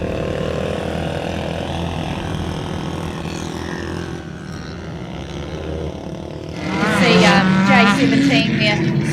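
Rally cars on a loose dirt track warming their tyres under yellow flags, engines droning steadily and then swelling louder as they swing past close by, with a commentator talking over the noise.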